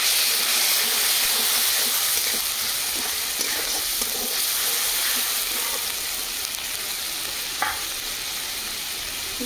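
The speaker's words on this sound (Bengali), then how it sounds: "কড়াতে সর্ষে তেল দিয়ে দিচ্ছি। তেল গরম হয়ে গেছে, এখানে বড় সাইজের একটা পেঁয়াজ নিয়েছি" Onion paste hitting hot mustard oil in a wok, a loud, continuous sizzle and hiss that holds steady up close, broken only by a few light stirring scrapes.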